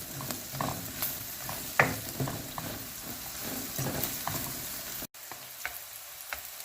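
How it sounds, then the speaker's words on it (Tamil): Okra masala frying in a pan on a low flame, a soft steady sizzle with irregular scraping taps of a spoon stirring through it, close up and with no talking. "மசாலா சேர்த்ததுக்கு அப்புறமா ஒரு 5 மினிட்ஸ் நல்லா லோ ஃப்ளேமில் இந்த மாதிரி ஸ்டார்ட் பண்ணிடலாம்."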